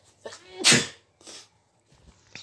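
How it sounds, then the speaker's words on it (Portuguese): A man sneezes loudly once at close range while parked on a Honda Fan 150 motorcycle he bought at auction, with short fainter breathy bursts before and after. "Desculpa aí, rapaziada, por ter espirrado."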